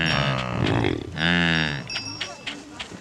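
Yaks low and moo in long, deep calls at a yak shed near Tilicho Lake in the Mustang highlands, two drawn-out bellows close by, followed by quieter shuffling and faint farmyard sounds.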